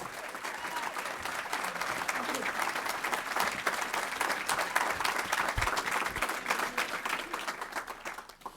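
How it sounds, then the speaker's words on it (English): A conference audience breaks into dense applause right after a speaker is introduced, loud and sustained for several seconds before tapering off at the end. "Please give a big round of applause to Alex Donier."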